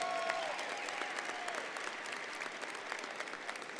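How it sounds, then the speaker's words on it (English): A commencement ceremony crowd claps steadily in a large hall, a broad wash of applause heard from a distance at moderate level. "let's give them a round of applause"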